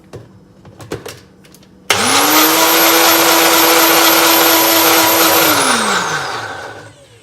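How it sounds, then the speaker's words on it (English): A blender whirs loudly and steadily for about five seconds, mixing keto coffee with butter and coconut oil, starting abruptly after a few faint clicks and winding down at the end. "So let's get blending."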